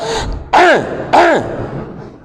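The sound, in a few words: imitated throat clearing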